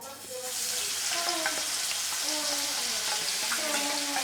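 Spice paste for a papaya and shrimp ghonto sizzles and spits steadily in a hot pan with salt added, a loud, continuous frying hiss with faint stirring scrapes.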